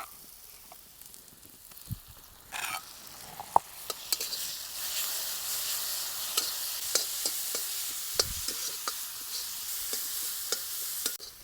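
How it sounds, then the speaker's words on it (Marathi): Onion and crushed green chili sizzle and fry in a pan, a loud steady hiss with repeated scraping stirs and clinks of the spoon against the pan. "आता आपण याच्यामध्ये टाकू ही कुटून घेतलेली मिरची"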